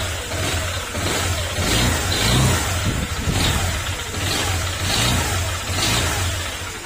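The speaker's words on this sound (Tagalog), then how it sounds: "Kaya tayo mag-overhaul dito dahil yung tunog ng makina niya," A Honda Click scooter engine with a bad connecting rod runs loud and close, revving in repeated surges with a rough, knocking mechanical rattle beneath that follows the acceleration.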